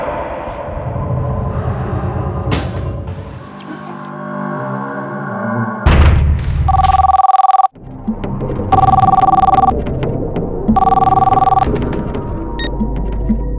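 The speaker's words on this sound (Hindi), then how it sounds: "मम्मा, शांति आंटी का फोन है।" A home telephone rings in repeated electronic bursts within a domestic scene, with steady background noise and other room sounds between the rings.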